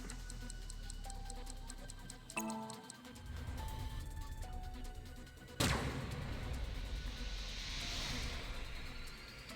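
A scattershot gun fires with a single sharp, loud blast partway through, in AI: The Somnium Files, followed by a lingering noisy wash, over earlier ticking and game tones.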